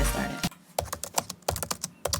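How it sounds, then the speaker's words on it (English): Fast, fierce typing on a computer keyboard comes through as close, loud bursts of rapid key clicks separated by brief pauses, with no voices. "That's some fierce typing."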